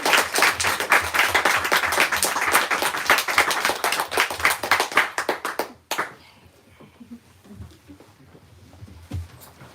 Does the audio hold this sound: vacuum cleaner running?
no